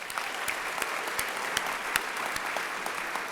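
Audience applause at an awards gala, a steady wash of many hands clapping with no speech over it, sustained and fairly loud throughout.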